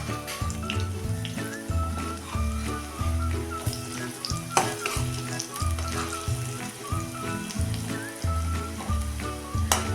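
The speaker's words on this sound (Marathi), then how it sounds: "बघा आता आपल्या भज्याची एक बाजू तळून झाल्यानंतर ही उलटून पण आपण अशी चांगली खरपूस तळून घेऊया" Betel leaf bhaji frying in hot oil, turned to crisp the second side: a steady close crackling sizzle runs throughout, with faint music-like tonal layers beneath and no talking.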